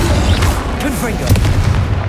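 Confringo fire spell bursting in Hogwarts Legacy combat, a heavy booming blast with rumbling low end layered under clattering game effects and a brief voice, lasting about two seconds.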